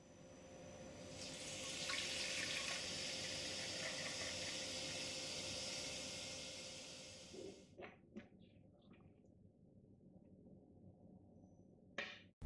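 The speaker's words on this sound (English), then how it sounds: "Remove, rinse, and refill the water tank with fresh cold water" Water runs steadily from a tap for several seconds, rinsing and refilling a De'Longhi Motivo espresso machine's water tank, then stops, followed by a few plastic clunks and handling knocks.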